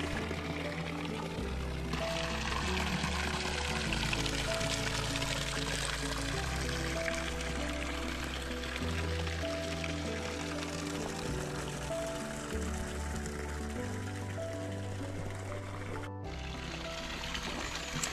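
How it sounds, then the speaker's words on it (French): A large waterfall pours into a big pond in a tortoise enclosure at a tortoise refuge, making a constant, steady rush of splashing water, close and unbroken, with no voices. "une grosse cascade avec un gros bassin au milieu"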